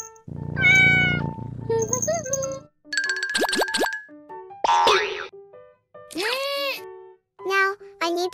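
Cartoonish cat meows from an animated miniature cake-decorating scene, several short pitched calls mixed with boing, plop and ding effects in quick succession, loud and close with no talking.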